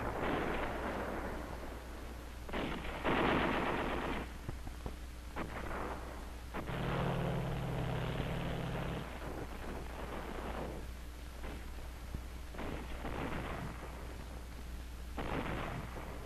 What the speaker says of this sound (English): preceded by an intense artillery preparation of 10 minutes fire by 18 battalions of field artillery